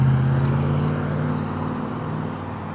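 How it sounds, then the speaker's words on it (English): A white Corvette on the road, its steady low engine and road rumble heard up close from an electric bike ride, gradually easing slightly in loudness over a few seconds. "Oh, this Corvette's really cool too."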